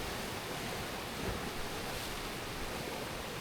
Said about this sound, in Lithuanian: Reikia pažiūrėti, kur bangos pareina, kad manęs nenuplautų.